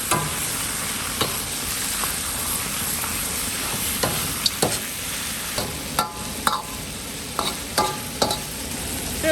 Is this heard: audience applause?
no